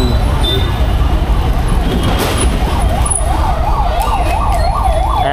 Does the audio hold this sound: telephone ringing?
no